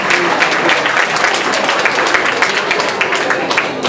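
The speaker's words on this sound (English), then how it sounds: "I think you can all give yourselves a great round of applause" A crowd at a Mullahoran CCÉ battle of the bands night breaks into sustained, dense applause, loud and close, holding steady for several seconds with a faint voice underneath.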